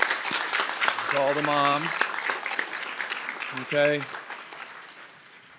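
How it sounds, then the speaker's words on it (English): Audience applause at a spring 2024 commencement morning ceremony, held on a rainy day to honor the mothers present: a dense, steady clatter of clapping lasting several seconds, running under a voice that speaks over it before it fades. "Give them a round of applause."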